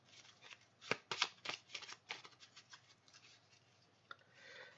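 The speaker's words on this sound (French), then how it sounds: "on va sortir une carte ici" Oracle cards rustle and slide against each other as one is drawn from the deck, a quick flurry of soft close-up shuffling that fades into faint rubbing.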